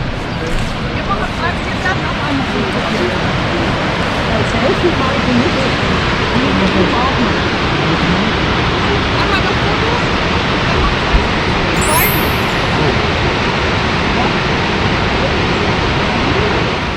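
Large waterfall at Plitvice Lakes, Croatia, heard as a loud, steady roar of falling water that fills the whole clip without a break, with faint crowd babble mixed into the rush.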